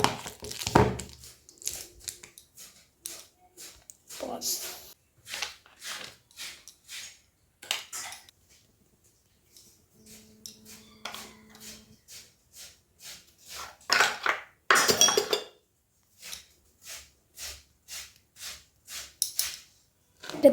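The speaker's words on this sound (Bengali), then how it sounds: "এরপর আলুটা আর কলাটা আমি স্ম্যাশ করে নিচ্ছি।" Boiled potato and boiled green banana are mashed by hand in a kitchen for kofta, with irregular soft squelches, taps and utensil clacks against a dish, broken by short quiet pauses.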